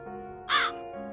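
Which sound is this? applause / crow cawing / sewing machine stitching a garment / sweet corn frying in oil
crow cawing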